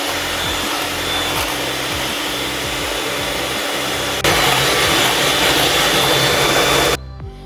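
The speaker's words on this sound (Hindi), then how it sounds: "व्हिप क्रीम को हमने काफ़ी देर व्हिप किया है" An electric mixer whips cream for an eggless tiramisu in a steady, loud whirring drone that shifts up in pitch and intensity partway through, then cuts off near the end, with no talking.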